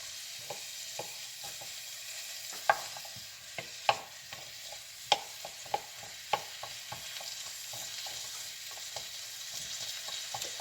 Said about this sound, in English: what I want to do is I want to fry it